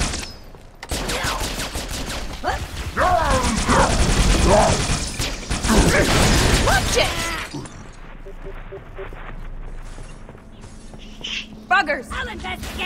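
Gunfire in the Halo 3: ODST game, a sustained stretch of rapid, dense shots with clattering, shattering impacts, then sparser sporadic shots, with voices shouting over the combat.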